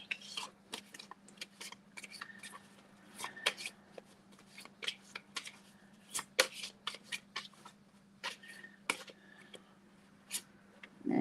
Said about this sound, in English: There's your first card, Patrick.